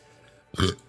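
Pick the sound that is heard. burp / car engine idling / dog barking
burp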